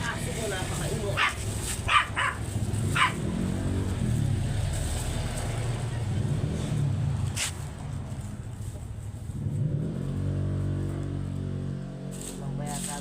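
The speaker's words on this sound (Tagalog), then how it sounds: "Aso ko, napakaingay." A dog barks in short bursts, close by, over ongoing talk and a low engine-like rumble.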